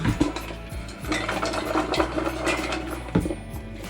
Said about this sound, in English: Grab our roast pan here.